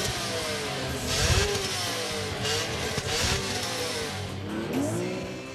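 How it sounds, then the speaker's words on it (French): A BMW E46 M3 inline six-cylinder engine revs hard and repeatedly toward 7,900 rpm, its pitch sweeping up and down in loud, snarling surges as the throttle opens and closes. "Outre le bruit fantastique de cette fabuleuse mécanique"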